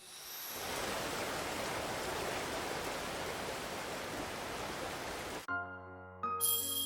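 Steady rain sounds like an even, close hiss of falling water that lasts several seconds, then cuts off abruptly and gives way to soft, sustained musical tones.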